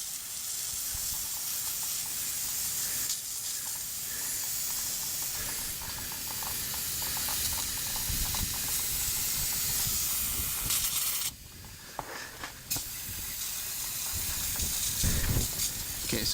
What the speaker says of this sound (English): spray the valve body down real quick with some brake clean.